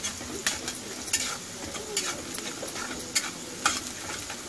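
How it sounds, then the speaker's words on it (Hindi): Sautéed vegetables seasoned with salt and black pepper being stirred in a pan, steady soft sizzle broken by several sharp spoon scrapes and clinks at irregular intervals, close up, no voices. "अब हम इसमें डालेंगे नमक स्वाद के अनुसार, काली मिर्च पाउडर 1 चम्मच, इसे मिला लेंगे।"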